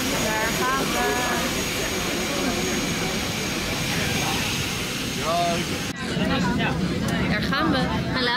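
Steady roar of a passenger jet cabin in flight, a broad constant rumble with people talking underneath and a brief cut partway through.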